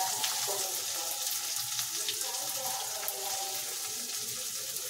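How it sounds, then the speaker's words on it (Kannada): Ingredients for corn capsicum masala fry in a pan, a continuous moderate hiss of oil with faint stirring under a watery, tap-like wash. "ಚೆನ್ನಾಗಿ ಫ್ರೈ ಆಗಲಿ."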